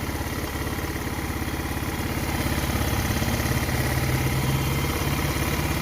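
A barn-find Vento Phantom R4i scooter with a 150cc GY6 engine idles close by, a steady rapid chugging putter that holds constant and grows slightly louder over several seconds.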